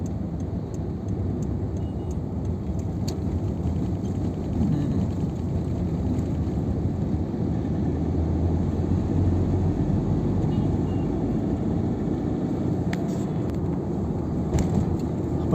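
A car cruises along the NH4 highway near Navale Bridge, giving a steady low engine and road rumble heard from inside the cabin, with no distinct events.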